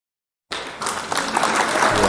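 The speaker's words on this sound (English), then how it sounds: "let's give them a round of applause real quick" After a brief silence, an audience breaks into steady applause that swells and stays full for nearly two seconds.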